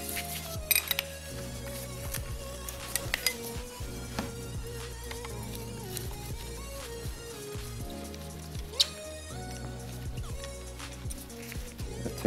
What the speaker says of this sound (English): I take my nozzle off put it in some lacquer thinner.